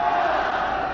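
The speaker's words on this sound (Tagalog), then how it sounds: "the crowd is going wild right now" Crowd at a basketball game cheering and roaring continuously during free throws, a loud, dense wall of voices with no pauses.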